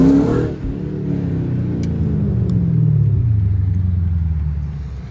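A car with a shift kit accelerates hard, its loud, close engine note dropping at a quick gear change and then climbing steadily again through the next gear.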